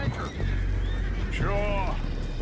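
Horse whinny from Red Dead Redemption II, a single descending neigh near the middle over a steady game-world rumble, with voices talking around it.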